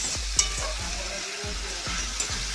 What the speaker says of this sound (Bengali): ভালো করে আমি মশলাটা কষছি